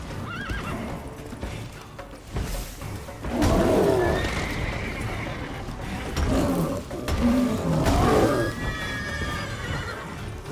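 Roach, Geralt's horse in the video game Witcher 3, whinnies and neighs agitatedly with clip-clopping hooves during a fight with an Earth Elemental, several loud calls rising over game noise.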